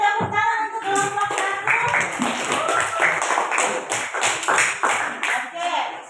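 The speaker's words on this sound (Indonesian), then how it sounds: "Beri tepuk tangan untuk kelompok" A small audience claps for a group in a brisk, uneven patter of hands close by, lasting several seconds, with voices speaking over the applause.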